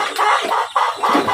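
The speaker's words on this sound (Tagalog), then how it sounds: "1 week natin na sisiw ng pabo at saka manok" One-week-old turkey and chicken chicks peeping on a farm, a loud close chorus of repeated shrill chirps in quick bursts with barely any pause.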